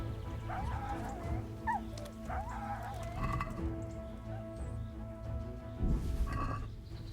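Mutt, the dog in Kingdom Come: Deliverance, gives a few soft, high whimpers and yips at middle distance, set against a low ambient game backdrop with no speech.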